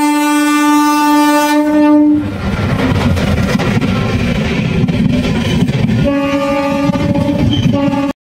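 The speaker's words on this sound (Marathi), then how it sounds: "आता आपण बदलापूर स्टेशनला आणि इकडनं कर्जतसाठी ट्रेन पकडतोय" A train pulls into Badlapur station with a long, loud horn blast, then a heavy rumbling of the moving carriages, and a second horn blast sounds near the end.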